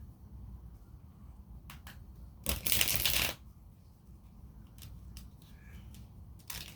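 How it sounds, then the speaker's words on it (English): A short burst of tarot cards being riffled, about a second long, close by, with a few light taps and clicks around it in an otherwise quiet room. "get one more shuffle in"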